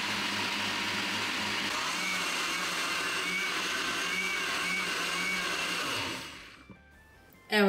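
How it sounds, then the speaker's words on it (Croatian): A blender whirs loudly and steadily, pureeing a cooked cream soup with rice and chicken, then winds down near the end before a brief loud bump. "sad ćemo ga u blender i gotova nam je juhica"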